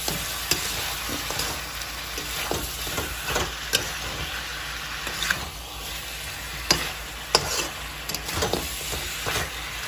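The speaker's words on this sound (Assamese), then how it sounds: "এতিয়া আকৌ এনেকৈ 5 মিনিট সময় ভাজিম" Mutton pieces frying in a pan with turmeric and salt for a Nepali-style cutting mutton curry, a steady close sizzle broken by repeated clacks of stirring.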